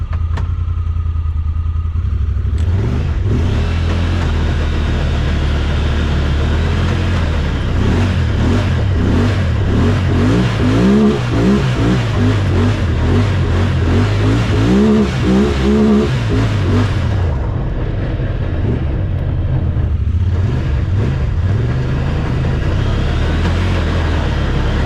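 A rebuilt, previously wrecked Honda Talon UTV drives off and runs up through its gears, the loud engine revving and dropping in pitch with each shift, steady and close throughout.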